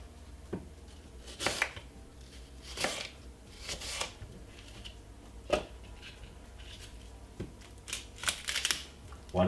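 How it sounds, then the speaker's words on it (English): A knife chops an apple into small pieces on a cutting board, giving a series of sharp, irregular taps and cuts at close range with no talking. "just make sure you cut up the apple small."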